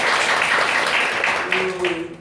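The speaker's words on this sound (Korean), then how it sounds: "다시 한번 박수 부탁드리겠습니다." Applause for a lecturer at a church discussion meeting, a steady wash of clapping from a gathered audience with a faint voice or tone underneath, moderately loud and continuous.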